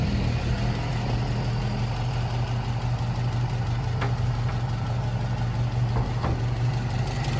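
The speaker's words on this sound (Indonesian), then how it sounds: "Kita coba check up mesin ya." A Toyota Kijang pickup's original 1300 cc engine idling steadily in the engine bay during a check-up, a constant low rumble with a few faint clicks and taps over it.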